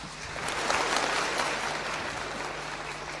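Audience claps for award winners walking on stage at a Yue opera awards ceremony, a dense wash of crowd applause swelling and then holding steady.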